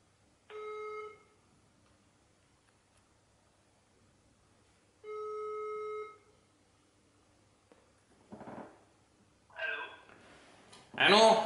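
A telephone ringback tone sounds twice during a prank call, two clear one-second rings separated by silence, followed by short bursts of people talking.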